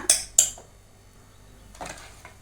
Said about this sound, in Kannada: ಮಸಿಯೋದು ಈ ರೀತಿ ಮಸಿಬೇಕು